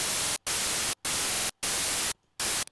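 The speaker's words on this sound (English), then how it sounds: "Just a normal white noise generator." White noise from a web modular synth generator routed through a VCA, loud broadband hiss in four long bursts separated by short silent gaps, ending in a brief final burst.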